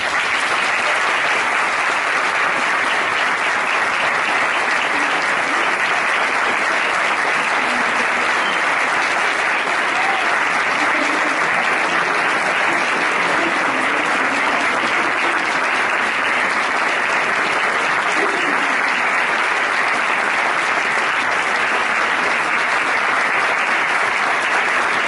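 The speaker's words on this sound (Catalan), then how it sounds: "demanem un fort aplaudiment per a aquests joves músics" Sustained, loud applause from a crowd at a Falla San Vicente presentation event, cheering on a group of young musicians; the clapping holds evenly for the whole stretch with no talk on top.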